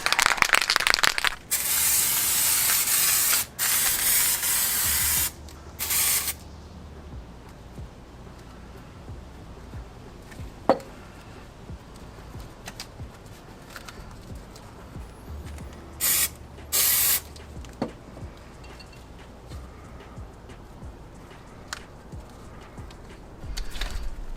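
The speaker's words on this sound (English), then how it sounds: "Using a spray adhesive to attach the foam." Several hissing blasts from a can of spray adhesive used to attach foam during a Lexus LS400 fender repair, some long and some short, with quiet handling clicks and rustling in between.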